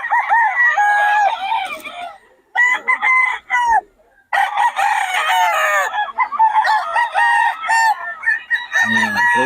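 Young gamecocks crow repeatedly at a market, several loud close crowing calls overlapping in bursts with brief gaps, a few clucks in between.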